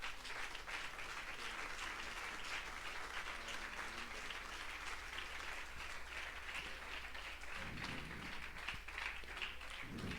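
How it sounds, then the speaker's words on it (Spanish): Congregation applauding during a Spanish-language evangelical church sermon, a steady dense wash of clapping that runs the whole stretch at moderate level, with a low hum beneath and no talk over it. "dele ese aplauso al Señor"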